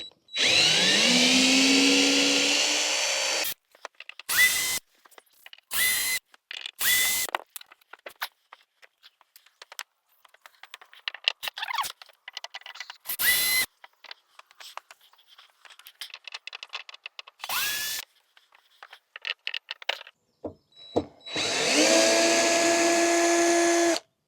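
A cordless screwdriver backs screws out of the corners of a camper van, with several short, loud whirring bursts separated by quiet gaps and light handling clatter.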